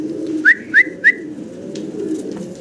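Three quick rising whistled coos from a male Golap fancy pigeon, close and clear, spaced about evenly over a low steady background hum, with no voices.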